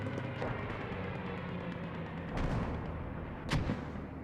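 A Stuka dive bomber attack in a WWII video game battle: a steady roar of distant artillery and gunfire, with two sharp explosive bursts landing about a second apart near the end, no talk.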